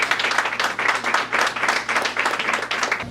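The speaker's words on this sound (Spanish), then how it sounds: "Un aplauso para Cristo" A church congregation applauds during a Spanish-language sermon, a thick, continuous wash of many hands clapping with a rolling, pulsing rhythm over a faint low steady hum in the room.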